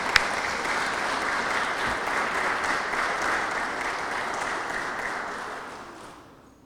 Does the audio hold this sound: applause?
yes